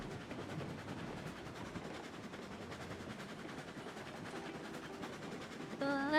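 A video-game train with a single locomotive rolls along the tracks, making a faint, steady rumble with a quick repeating clatter throughout.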